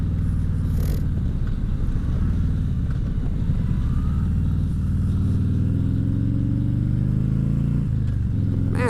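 An old iron motorcycle rumbles steadily during a ride, with a continuous loud engine drone that shifts pitch as it changes speed and a steady rush of wind throughout.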